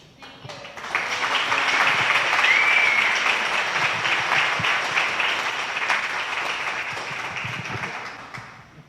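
Sustained audience applause at a town hall hosted by a local Republican group, a dense wash of many hands clapping that swells quickly and holds steady for several seconds before easing off.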